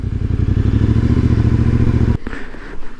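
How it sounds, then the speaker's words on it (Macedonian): A motorcycle idles loudly up close with a steady throb, then cuts out abruptly as it is switched off and parked, leaving faint outdoor ambience. "Сега јас да го паркирам тука негде моторот"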